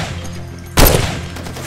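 A sudden loud burst of gunfire in the shooter game Far Cry 2 rings out over a low steady background hum, a single sharp blast or short rattle that fades away over the following second.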